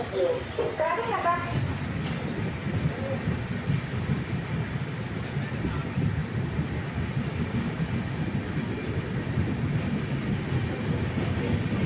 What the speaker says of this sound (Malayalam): നമ്മുടെ ട്രെയിൻ കൊല്ലം ജംഗ്ഷനിൽ നിന്ന് പ്ലാറ്റ്ഫോം നമ്പർ 2-ൽ നിന്ന് യാത്ര തുടങ്ങിയിരിക്കുകയാണ്.